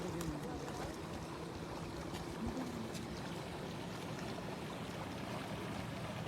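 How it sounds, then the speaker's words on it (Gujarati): Water of the Banas river flowing at Aval village, a continuous broadband rush that stays steady and fairly faint throughout, with no break in the sound. "આવલ બનાસ નદી પાણી ચાલી રહ્યું છે"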